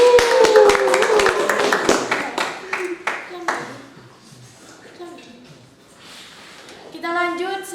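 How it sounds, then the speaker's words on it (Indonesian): An audience claps at a school talk show, starting with a loud burst of hand claps that thin into scattered, fading claps, followed by brief tonal sounds near the end. "Oke, tepuk tangan."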